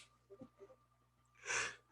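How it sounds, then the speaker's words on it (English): A single sharp sneeze bursts out after a couple of soft breathy sounds, close and fairly loud against a quiet background. "Sneezing on a video."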